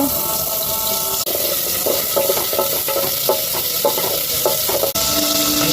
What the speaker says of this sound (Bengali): পেঁয়াজ কুচি দিয়ে দিলাম তেল দিয়ে দেব